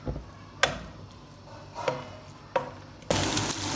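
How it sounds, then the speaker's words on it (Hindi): Chopped onion goes into a pan for frying: a few sparse knocks and taps in a quiet kitchen, then a sudden loud burst of hissing sizzle as it hits the hot oil. "इसको ऐड करेंगे और अच्छी तरह से इसको अब हम फ्राई करेंगे"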